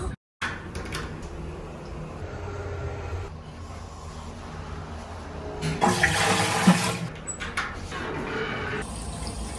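Toilet flushing in a public toilet on a coastal headland: a sudden start, then a sustained watery rush that swells into a loud roaring gush midway before settling into refilling water, no voices.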